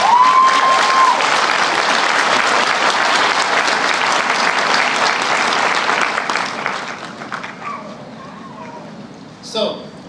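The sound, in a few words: audience applause at a graduation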